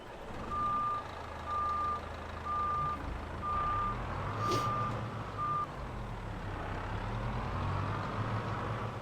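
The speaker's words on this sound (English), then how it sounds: "let's go ahead and move the crane in" A crane vehicle in Farming Simulator 22 creeping along with a steady train of evenly spaced reversing beeps over a low engine drone, with a brief hiss like an air brake partway through.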